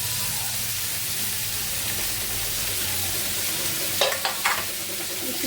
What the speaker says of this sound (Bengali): আর ওই চুলায় মাছটা ভাজা হচ্ছে